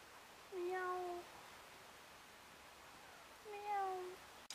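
A person imitates a cat's meow twice, two drawn-out mewing calls about three seconds apart, moderately loud over faint outdoor background noise, during a boat trip on the Küstrinchenbach in the Uckermark.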